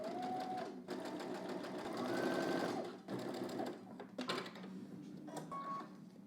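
A sewing machine runs in steady bursts, stitching a seam, with short pauses and restarts and a few faint beeps from the machine. No one speaks.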